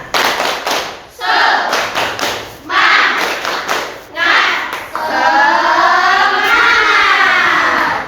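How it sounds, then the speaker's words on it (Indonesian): Children in a classroom do a rhythmic spirit clap, loud bursts of clapping and thumping in patterned groups with children's voices chanting and shouting along, ending in a sustained rush of cheering. "Berarti kita tepuk semangat dulu. Yuk. Tepuk semangat."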